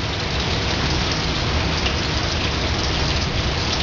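Steady, dense rain falls and patters on surfaces nearby, an even hiss with no other sounds breaking through.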